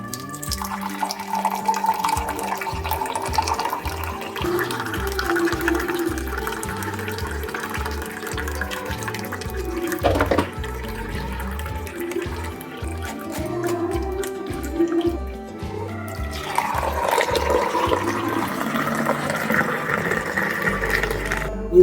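Blended cucumber juice from a mixer jar is strained, and the liquid pours and trickles steadily with soft splashing at moderate level, with no talking.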